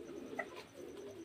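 Pure desi Giribaz pigeons of the Murshidabad line coo softly and faintly, with a low, steady murmuring coo and a brief sharper call among them.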